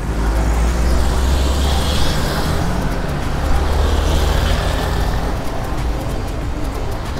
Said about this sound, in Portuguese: Veio um carro passando.